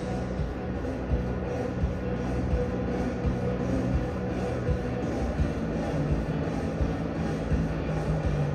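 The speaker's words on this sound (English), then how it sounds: "the AH-64 Apache represents the backbone of the U.S. Army's attack helicopter fleet" A U.S. Army AH-64 Apache attack helicopter flies during an Army 250th birthday parade, a steady, moderately distant rotor and engine drone holding evenly throughout with no one speaking.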